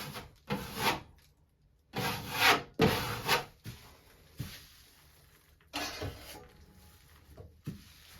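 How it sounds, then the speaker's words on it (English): Putty knife scraping and smearing joint compound over a drywall hole patch, heard as several close, rasping strokes of about half a second to a second each, separated by short pauses. "we're basically just going to scrape that off, or smear over it, flatten it out a little bit"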